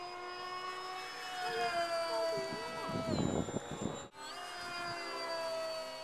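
A small pylon racer RC model airplane, about 60 mph, passes with its motor whining at a high, shifting pitch, rising and falling in tone, with a brief dropout partway through.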